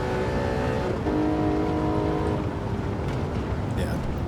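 A BMW M3 E36 lapping the Nürburgring in GT7 gives a loud, sustained engine drone with a shifting pitch and a brief gear change, while someone talks over it.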